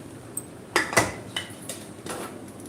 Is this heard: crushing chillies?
yes